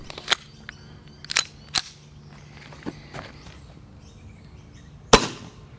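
A Costa Carry Comp gel blaster replica with an upgraded barrel firing single shots: about five sharp, snappy cracks at irregular intervals over a soft mechanical background, close and loud, the last shot strongest.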